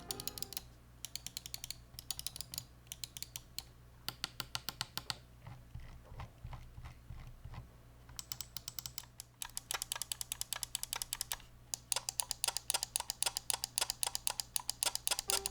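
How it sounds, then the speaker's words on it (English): Logitech G703 HERO gaming mouse buttons clicked repeatedly up close, crisp fast clicks in quick bursts and steady runs, loud and dry with no talking. "the buttons that you just heard right there, very crispy and very clicky"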